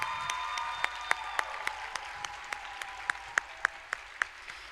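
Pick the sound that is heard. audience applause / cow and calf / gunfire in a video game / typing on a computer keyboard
audience applause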